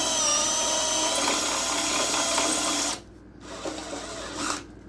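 A power drill with a step bit whines steadily at high pitch, enlarging an existing hole, then cuts out briefly and spins up again, close and loud.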